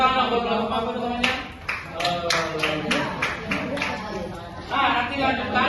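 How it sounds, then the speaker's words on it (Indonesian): Classroom applause for a student group at a junior high school, a sustained round of clapping from many students, with a teacher's voice speaking over it. "tepuk tangan buat kelompok apa namanya?"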